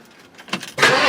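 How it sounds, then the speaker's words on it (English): An old 1958 Ford car on a cold day: quiet at first, then a couple of short mechanical bursts lead into a loud, close engine whir as the starter cranks, alone with no voices. "we'll see if it'll fire up for you"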